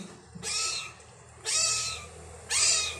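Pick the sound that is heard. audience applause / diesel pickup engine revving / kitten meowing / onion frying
kitten meowing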